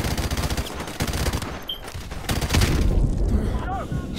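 Gunfire in Call of Duty: Modern Warfare Remastered: a burst of rapid shots and booms crackles through a short, busy stretch of game noise, with voices mixed in.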